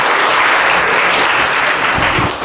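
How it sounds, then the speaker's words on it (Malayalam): Loud, dense applause from an audience at a talk, a continuous close roar of clapping hands that tapers slightly at the end. "കൈയടിച്ചേ."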